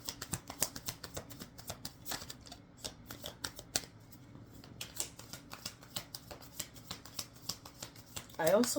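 Tarot cards being shuffled in repeated soft riffles and taps, close up and fairly quiet, with a brief sharper burst at the end.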